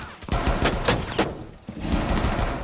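Rapid bursts of gunfire and explosions in a video game where a fish explodes, a dense, continuous barrage of loud cracks and booms with no talk.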